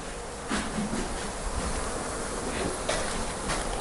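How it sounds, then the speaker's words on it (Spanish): Flies swarm against a window pane in an old 1800s castle, a steady loud buzzing drone with some swells as insects move near, filling the room without any voices. "Mirad todas las moscas que hay en ese cristal."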